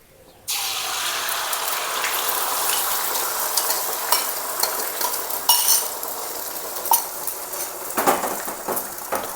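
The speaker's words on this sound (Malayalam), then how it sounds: "ചൂടായി എണ്ണ ചൂടായി മുട്ട ഒഴിക്കട്ടെ." Egg poured into hot oil in a pan, crackling and sizzling steadily from start to finish, with a few clinks of a utensil against the pan near the end.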